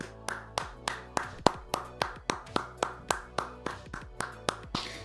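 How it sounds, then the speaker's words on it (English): Slow, steady hand claps, about sixteen sharp claps in five seconds at an even rhythm, close and fairly loud, from a lone person clapping rather than a full crowd. "Round of applause."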